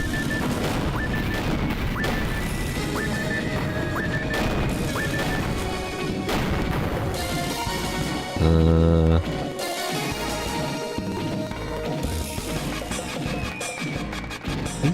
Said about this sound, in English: thump of the gun is really satisfying